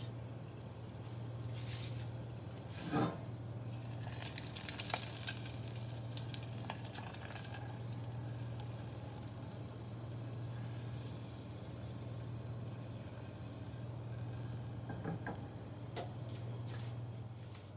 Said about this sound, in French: Le beurre commence à brunir, je coupe le feu et je laisse infuser.